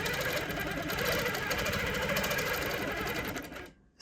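A longarm quilting machine stitches a meandering stipple pattern, its steady fast mechanical whir running loud and continuous for several seconds before dropping away abruptly near the end.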